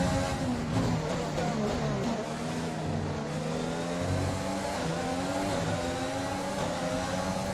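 Race car engine in the F1 2020 video game, with Renault cars on a Vietnam track, revving and accelerating in a steady high whine that rises and shifts through gears, close and continuous without talk.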